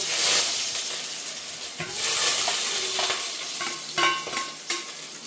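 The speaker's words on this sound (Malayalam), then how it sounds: "അരിഞ്ഞ ചുള്ളി ഇടാൻ പോവാട്ടോ" Chopped ingredients sizzling in hot sunflower oil for a quail biryani, a close, steady frying hiss broken by stirring scrapes and crackles, with no voices.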